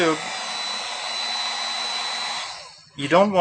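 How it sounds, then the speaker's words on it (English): A DF900 AluSpot heat gun, set around 450 to 550 degrees, blows a steady close airflow roar while heating an aluminum dent during pulling, then cuts off and a voice briefly speaks. "We're going to heat up the dent while we're pulling."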